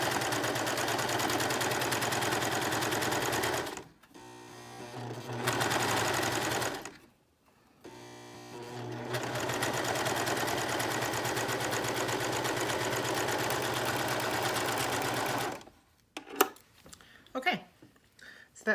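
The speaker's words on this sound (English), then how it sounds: "Okay, I have overlocked all around there." Overlocker serging the side seams and armhole of a sewn shirt, a steady close-up mechanical whir running in long bursts with brief pauses between passes, stopping near the end.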